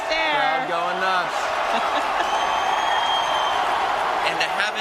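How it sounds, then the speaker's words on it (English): Arena crowd cheering a Washington Capitals hockey win, a steady roar of voices and clapping, with a broadcaster talking over the top and a whistle-like tone rising and falling early on. "Crowd going nuts."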